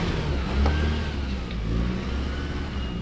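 A 4x4 off-road vehicle climbs a rocky step on a technical Watagans track, its engine droning low and steady with a brief swell of revs early on, heard close and without any voices.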